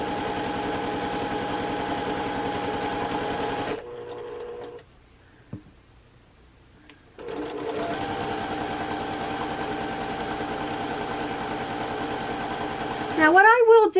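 A sewing machine stitches quilt block units, running in a steady loud mechanical whir for several seconds. It stops briefly, then starts again and runs steadily to the end.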